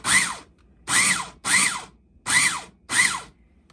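A food chopper machine chops hard-boiled egg for ham salad in five short, evenly spaced whirring pulses, close and loud, with brief quiet gaps between them.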